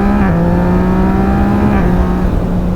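A Yamaha MT-09 motorcycle engine revs loud and close, a sustained, throaty drone that dips and rises slightly in pitch while holding steady.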